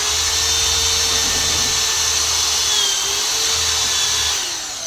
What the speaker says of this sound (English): Drill your holes to about the depth of your plug